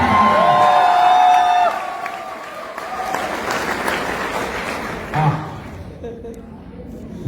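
An audience at a live speech breaks into a broad wash of clapping and some cheering in a hall. It follows a brief tonal voice at the start and fades out toward the end.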